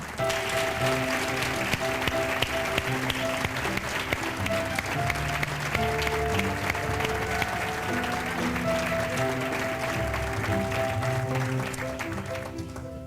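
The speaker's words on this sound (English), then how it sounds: "let's have an encore round of applause for our Memphis account manager, Melanie Spadell" Applause at a 1998 corporate awards ceremony for an account manager, a steady sustained clapping that lasts over ten seconds, moderately loud, with sustained music playing underneath.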